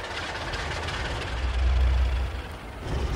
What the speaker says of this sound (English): the engine came to life